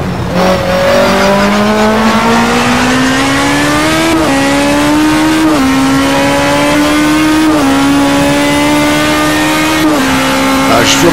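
A DTM 2013 race car engine in a racing video game at Hockenheim, loud and continuous as it winds up through gears with repeated rising pitch sweeps and brief dips at each shift, with tire noise underneath.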